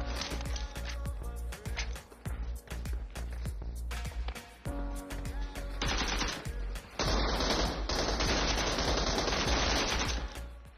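An AK rifle fires in a shooter video game: a string of sharp, rapid shots, then a sustained loud continuous burst toward the end.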